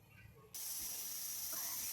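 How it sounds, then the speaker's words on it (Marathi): After a quiet moment, a pressure cooker whistle on full gas bursts into a loud, steady, high-pitched steam hiss that keeps going. "कुकरला एक सिटी झालेली आहे"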